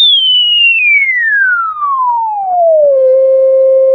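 A high-frequency test tone played through Logitech LS21 computer speakers, a loud pure whistle sweeping steadily downward from very high to a lower pitch over a few seconds, then holding steady, with no talk.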